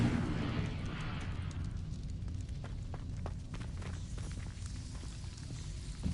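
An Incendio fire spell cast in Hogwarts Legacy, a burst of roaring flame at the start fading into crackling, scattered ticks and rustles, fairly close and steady, with no voices.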